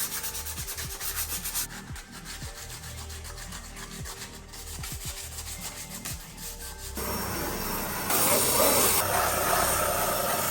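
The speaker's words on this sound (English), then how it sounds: "So you want to sand all the areas you're gonna lay fiberglass so it has something to bond to" The damaged hull of a boat is sanded by hand before fiberglass goes on, with rhythmic scraping strokes at first, then a denser, louder continuous rasp, close and steady, with no talk.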